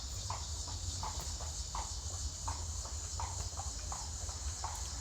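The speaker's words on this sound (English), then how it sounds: "Horse and buggies going by." A horse pulling a buggy clip-clops past in a steady, even rhythm of hoofbeats, moderately distant, with a constant background hiss and no talking.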